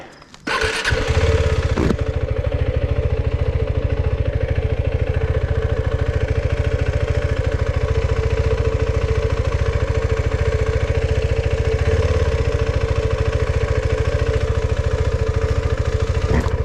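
A KTM motorcycle engine starts and runs at a steady, loud, rapid pulsing beat, with a sustained buzzing resonance from the skid plate throughout.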